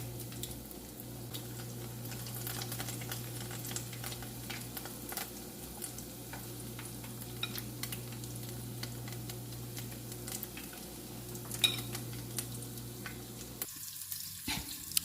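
Cauliflower frying in a pot of oil for a low-carb curried chicken dinner, a steady soft bubbling sizzle with scattered ticks and crackles, plus an occasional stir, continuing for many seconds before abruptly stopping.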